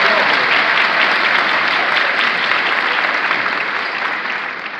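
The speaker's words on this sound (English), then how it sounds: "Raise your hand and give them a round of applause." A large crowd of union members at a teacher union gathering in a New York Hilton hall gives loud, dense, sustained applause that fills the room evenly and eases off slightly near the end.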